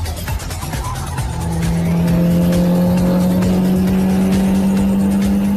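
A Mini Cooper race car spins out during a race. The engine roars loud and close, and a sustained tire squeal holds a steady pitch as the car slides, with other car noise around it.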